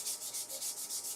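A 240-grit abrasive sands a softish timber bud vase spinning on a woodturning lathe, giving a steady, close rasping hiss that swells and fades in quick regular strokes, with no voices.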